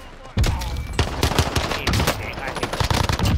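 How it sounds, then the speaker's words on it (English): Rapid gunfire bursts from a Fortnite-style battle royale video game, dense and loud, with speech mixed in underneath. "Getting shot from Kemi"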